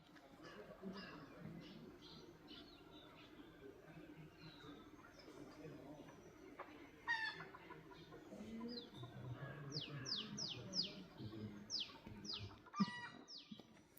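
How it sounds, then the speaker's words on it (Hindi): Wild jungle fowl give repeated sharp stress calls in forest, clucking bursts scattered near and far over a low rumbling background, with people talking quietly at times. "अब यहाँ से जंगली मुर्गे की बहुत कॉल हो रही है,"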